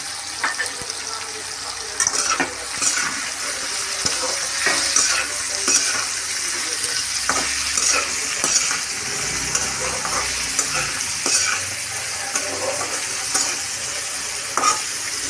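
Bitter gourd and chilli stir-fry in a pan, with a steady sizzle and frequent scraping strokes of a spatula, close and continuous, with no clear talking.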